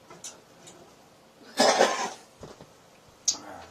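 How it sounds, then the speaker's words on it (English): A single harsh adult cough bursts out in a quiet indoor room, preceded and followed by faint clicks and small handling noises. "Sorry, I have this cough thing still."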